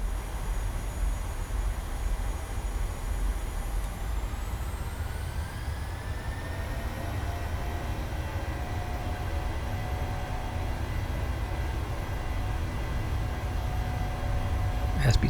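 Boeing 737-700 jet engines on a takeoff roll in a flight simulator, a loud steady roar with rumble throughout and a rising whine partway through, swelling slightly at the end.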